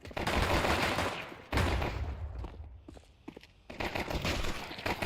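Gunfire in a competitive tactical shooter match at a DreamHack esports tournament: bursts of rapid automatic fire, loud and close, with a brief lull of scattered shots and footsteps before the firing resumes.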